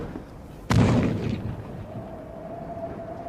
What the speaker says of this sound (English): some of Keble's exhausted men got to within point-blank range of the Argentine trenches and